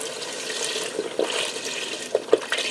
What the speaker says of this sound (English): I'm going to add in some beef stock